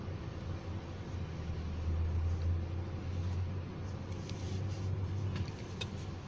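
Subaru Forester on a test drive, with a steady low engine and road drone inside the cabin, a continuous moderately loud hum with tyre and road noise and a few faint higher clicks near the end.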